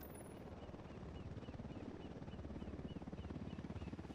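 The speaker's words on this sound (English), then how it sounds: "Need that chopper." A helicopter in a military video game thumps with a rapid, steady rotor chop, fairly faint and continuous, growing slightly stronger over a few seconds with no talk.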